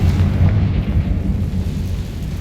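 A booming Confringo fire spell blast in the Hogwarts Legacy video game, loud and rumbling with a dense low roar that holds steady, then slowly fades.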